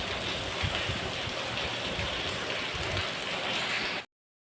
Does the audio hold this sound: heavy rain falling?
yes